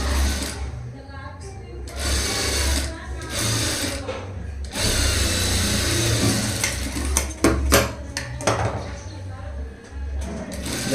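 Sewing machine stitching a double-layered saree blouse, running in bursts of rapid mechanical whirring with short pauses between seams, close and loud, with a voice talking between runs.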